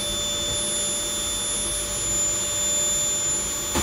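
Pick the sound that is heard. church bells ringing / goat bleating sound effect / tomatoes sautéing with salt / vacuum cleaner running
vacuum cleaner running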